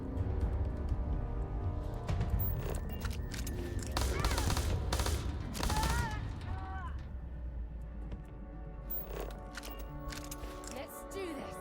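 Rapid gunfire in the sci-fi shooter Starfield rattles out in dense bursts during a firefight, loud and continuous for several seconds and then thinning to scattered shots, with a voice talking over it.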